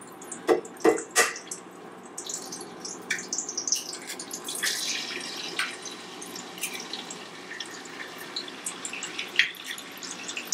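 Water drips from wet laundry, with several sharp, close drops early on followed by scattered splashes and trickling that grow fainter.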